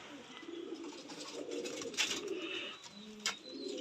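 Pigeons coo in soft low murmurs over a short stretch, with a couple of brief sharper chirps and light background noise.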